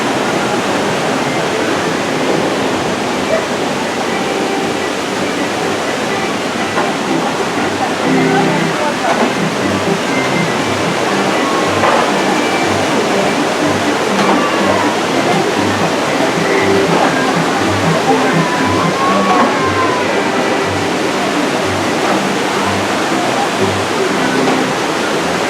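A waterfall at Walt Disney Studios Paris gives off a steady, broadband rushing wash heard from a distance, with faint crowd and park sounds layered over it.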